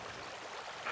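Small mountain stream running across the high plateau above Tugela Falls, a soft, steady trickling and burbling of water close by, continuous and fairly quiet with no voices.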